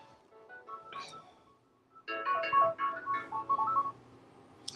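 An indoor phone rings in a kitchen while someone cooks vegan nachos: a faint electronic ring tone first, then a louder, steady stretch of melodic ringing that stops abruptly.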